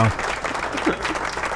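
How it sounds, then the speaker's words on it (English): Dense applause from a crowd at a talk show fills the clip, steady and fairly loud, with faint voices mixed in. "one more big round of applause for Tina Tambour."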